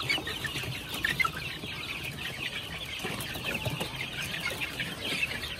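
Growing young chickens cluck and chirp steadily close by, several birds calling over one another with occasional louder squawks and faint rustling.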